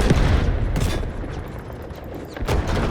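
Rapid gunfire from the video game Delta Force on the Ascension map crackles in dense bursts, loud and close, with a short lull before the shooting picks up again.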